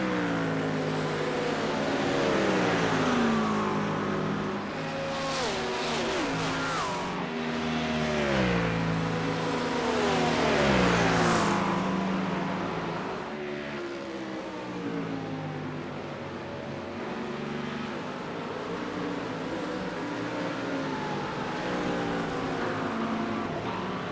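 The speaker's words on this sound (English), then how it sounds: "And there you see all 3 drivers pass me." GT3 race cars in a racing video game at Watkins Glen roar past one after another, their engine notes rising and falling as they overtake, loud and continuous over about twenty seconds with no talk.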